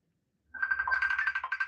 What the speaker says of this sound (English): I'm going to answer the phone.